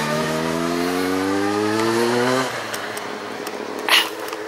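A vehicle engine on a Somerset country road revs with a climbing harmonic tone for a couple of seconds, then cuts to quieter roadside noise with a brief later burst, heard close by.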